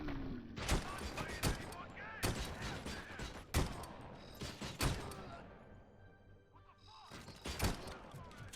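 Rapid bursts of gunfire from the first-person shooter Robocop: Rogue City, sharp shots repeating in uneven clusters over a steady game background, fairly loud and close, with speech mixed in at times.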